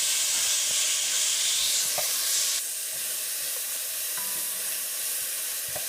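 Ground beef cooking in a pan for a hamburger rice casserole, giving a steady close hiss and sizzle that drops slightly in level partway through, with a few faint clinks and no talk.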